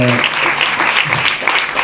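Loud, dense audience applause, steady clapping from a large crowd throughout, with a brief voice at the very start.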